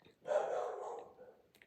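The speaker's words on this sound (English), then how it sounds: "you're gonna have to get used to my dogs going nuts in the background" One dog bark, fairly near and moderately loud, sounding once from the background of a room.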